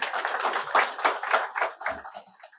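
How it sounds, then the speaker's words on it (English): A small group in a workplace training session at an automotive company claps briefly for a participant, with a short, moderately loud patter of hands that fades out within a few seconds. "Give him an applause."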